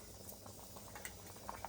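Pongal simmering in a pot, a faint, continuous bubbling with small pops and a soft steady hiss, heard up close with no talk.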